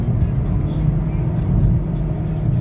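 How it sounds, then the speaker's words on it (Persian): A JAC J4 car accelerates on the road, its engine hum and road noise rising steadily and close from inside the cabin, without talk. "ماشین گاز میخوره"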